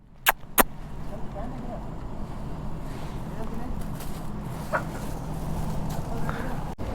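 A chicken clucks in a couple of sharp bursts up front near Arbail waterfall in Yellapur, Uttara Kannada, followed by a steady outdoor hum with occasional faint calls.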